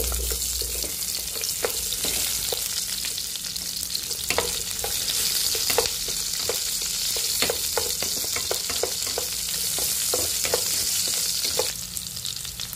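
Garlic and onion frying in oil in a wok for pork adobo with tomatoes, a steady close sizzle broken by frequent scraping stir clicks, no talk.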